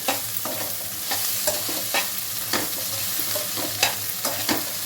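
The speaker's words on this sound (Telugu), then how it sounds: "ఈ విధంగా మళ్ళీ మొత్తం కలుపుకోవాలి ఒకసారి" Fried eggs being stirred in a frying pan, with repeated scraping clicks of the spatula over a steady sizzle, close and fairly loud with no voices.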